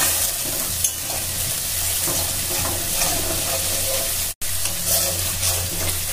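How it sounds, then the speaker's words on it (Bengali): Spice paste for a vegetarian potato and pointed gourd posto being sautéed in a pan, a steady close sizzle with spoon stirring and scraping throughout, broken by one brief dropout near the end. "এবার এটাকে 1 মিনিট ভালো করে কষিয়ে নিতে হবে।"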